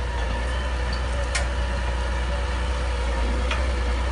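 Steady low diesel drone from a driverless John Deere 8335R tractor pulling a subsoiler, constant heavy engine rumble with a couple of brief faint clicks over it.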